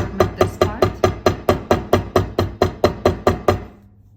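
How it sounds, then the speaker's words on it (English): A hammer taps jewelry wire about fourteen times in an even, quick rhythm, sharp and close, then stops. "I use my hammer and I just hammered this part."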